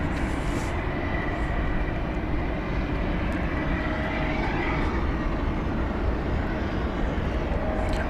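Aircraft at Dallas/Fort Worth International Airport, a steady broad roar of jet engines held at constant loudness across the whole stretch, with no talk over it.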